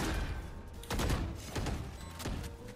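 Gunfire in a competitive shooter match comes in three or four sharp, spaced bursts over a low game-audio bed, fairly loud and close.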